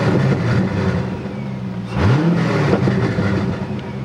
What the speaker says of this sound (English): But when I give it gas,